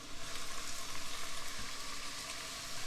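Finely minced sofrito vegetables sizzle steadily in a hot pan, a continuous close crackling fry with faint stirring, no voices over it.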